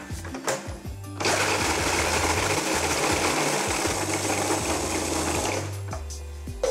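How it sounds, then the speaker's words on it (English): Food processor blitzing biscuits into crumbs for a Cremora tart base, a loud steady motor whir with grinding rattle lasting about four seconds, starting and stopping abruptly, with quieter clunks before and after. "I'm going to be doing this in a food processor"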